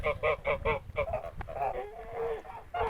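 Kholmogory geese honk close by in a rapid run of repeated calls, then a longer wavering honk, with another burst at the end.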